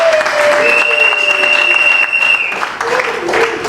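Guests clapping at a civil wedding ceremony, a dense, loud round of applause held steadily for several seconds, with voices and a cheer rising through it.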